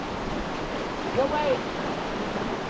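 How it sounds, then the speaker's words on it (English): Truckee River water rushing steadily around a raft near Lake Tahoe, a broad, continuous wash of churning water with wind noise on the microphone, while a voice speaks briefly over it. "This is actually a river."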